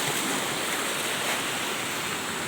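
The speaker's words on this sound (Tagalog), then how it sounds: "Grabe kasi yung alon." Rough sea waves breaking on a beach make a steady, loud broadband roar that fills the clip without pause, with no voices heard.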